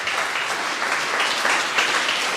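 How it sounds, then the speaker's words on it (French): Dense, steady applause fills a hall at a political meeting in Limoges against the high cost of living, many hands clapping continuously and fairly close, with no voices over it. "maintenant, c'est à vous de vous applaudir"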